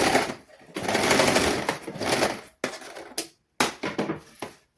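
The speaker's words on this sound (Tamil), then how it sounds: "முதல் ஸ்டார்ட்டில் நாங்கள் நோட் போட்டு தைக்கிறோம்." A sewing machine stitching fabric for a girl's garment in a basic tailoring class runs in steady, fairly loud bursts, with short pauses between runs and a few quick stitch spurts near the end.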